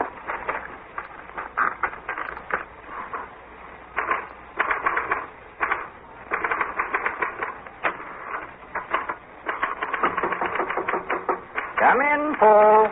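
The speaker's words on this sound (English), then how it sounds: "This is a note I want you to copy onto your typewriter." A typewriter clatters in a radio drama as a note is copied: irregular bursts of rapid key strikes with short pauses between runs, close and clear, ending with a carriage-return ratchet.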